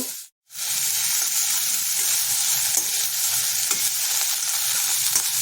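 Chopped tomato and paneer go into a hot pan and are stirred, giving a loud, steady sizzle and hiss after a brief silent moment at the start, with no voices.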